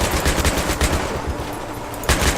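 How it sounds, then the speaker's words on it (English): Rapid bursts of .50 cal machine gun suppressing fire in Battlefield 3, loud, close and rhythmic, with a brief lull before the hammering resumes. "Bit of suppressing fire here and there"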